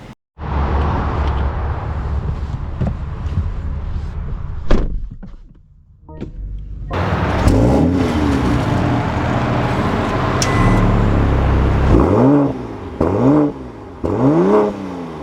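A 2025 BMW M440i driving, with a thunk, a brief quiet stretch, then road and engine noise building as it accelerates, with rising and falling engine sweeps near the end.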